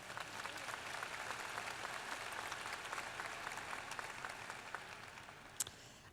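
Audience applause fills a commencement ceremony hall, a steady dense clapping from a large crowd that holds at an even level throughout, with one brief sharper clap standing out near the end.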